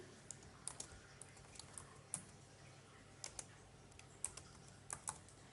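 Fingers type on a computer keyboard, a quiet, close run of light clicks and taps in irregular bursts.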